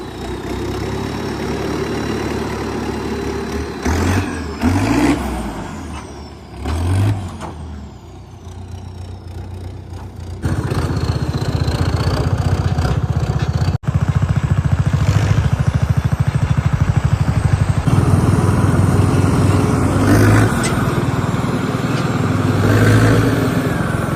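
A Sonalika RX 60 tractor drives along towing a cart, its diesel engine chugging loud and close, easing off briefly early on, then holding a steady heavy drone for the rest.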